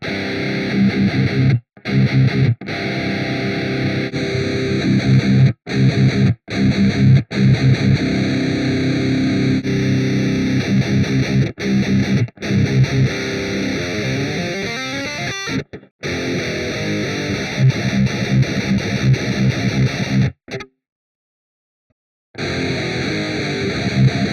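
Heavily distorted, high-gain electric guitar through the Neural DSP Archetype Gojira X amp simulator's default cabinet, playing sustained crunchy chords, cutting off abruptly several times with brief silences between phrases.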